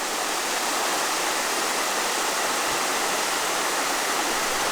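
Water spills steadily over an old concrete overflow spillway on a small stream in the Arkansas backwoods, making a loud, constant rushing roar without any break.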